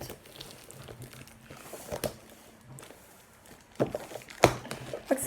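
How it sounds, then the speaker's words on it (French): Plastic packaging from a grass-growing kit crinkles and rustles as it is unwrapped, in soft, scattered bursts that grow sharper near the end, quiet and close. "ça va déballer le kit"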